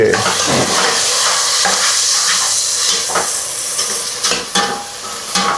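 Tomatoes fry loudly in a pan for Vijayawada-style chicken curry, a dense close sizzle with repeated spoon scrapes and knocks against the pan as they are stirred.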